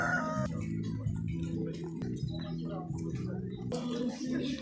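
Roosters at a poultry fair selling Sebright bantams, clucking and crowing amid a steady crowd murmur with people talking throughout.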